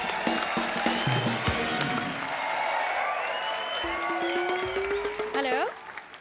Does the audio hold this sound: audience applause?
yes